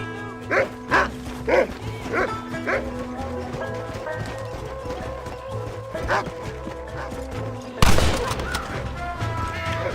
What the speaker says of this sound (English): Those wolves ain't afraid to defend themselves!